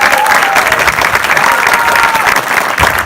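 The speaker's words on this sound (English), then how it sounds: "let's hear it for Michael" A film festival audience at a lifetime achievement award ceremony breaks into steady, dense applause that fills the whole moment, loud and close with no break.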